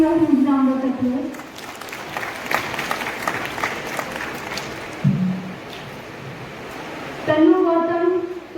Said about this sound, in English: Please give a huge round of applause